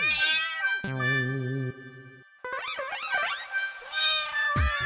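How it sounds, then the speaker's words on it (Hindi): A cat meows indoors in several loud, close, drawn-out calls with wavering pitch, some rising into yowls, separated by brief pauses and a thump near the end. "दरवाजा खुला क्या रखा, बिल्ली आ गई अंदर।"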